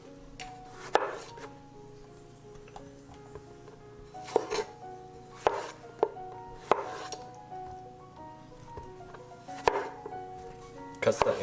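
A knife quarters roma tomatoes on a cutting board, irregular sharp taps of the blade striking the board, spaced apart with quiet handling between cuts.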